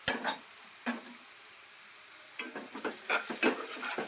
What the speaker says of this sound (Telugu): ఆనియన్స్ ఇంకా ఫ్రై అవ్వాలండి